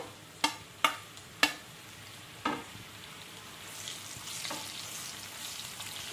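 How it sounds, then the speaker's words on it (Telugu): Cut mushrooms frying lightly in hot oil in a pan, opening with a few sharp clacks of the spatula against the pan and then settling into a soft continuous sizzle, with no talking. "మనం ఈ మష్రూమ్ వేసుకొని ఒక 2 నిమిషాలు నూనెలో ఇలా వేయించుకోవాలి"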